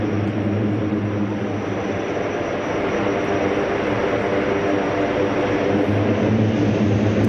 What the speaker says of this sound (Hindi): C-130J super Hercules aircraft Purvanchal expressway पर लैंड कर चुका है।